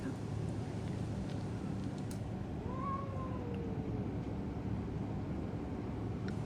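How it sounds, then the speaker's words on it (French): Cats fighting outdoors at sunrise: a single drawn-out, wavering yowl rises mid-clip over a steady, noisy background hum, fairly faint and distant. "La bagarre entre chats."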